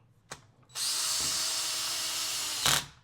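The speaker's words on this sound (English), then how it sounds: "just going to tighten them down a little bit" Bolts on the supercharger cover of an Eaton unit on a Jaguar/Land Rover are run down with a power tool, a short click followed by a loud, steady whirring buzz for about two seconds that stops with a final thunk.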